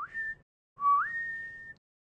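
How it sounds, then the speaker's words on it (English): A person whistles two clear tones: a short held note, then a longer note that slides upward and holds steady, alone against silence. "Christopher Robin whistled in a special way he had"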